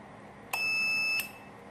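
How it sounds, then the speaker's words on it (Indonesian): An electronic buzzer on a portable power supply sounds during short-circuit protection when the power cable's wires touch: one steady, loud, high-pitched tone lasting about two-thirds of a second, opening and closing with sharp clicks. "terus buzzer berbunyi"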